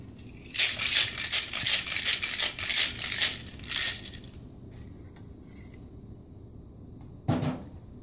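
A Grasshopper cocktail of cream and creme de menthe is mixed in a shaker, giving a run of loud rattling ice shakes for about four seconds, then quiet, then one brief clatter near the end.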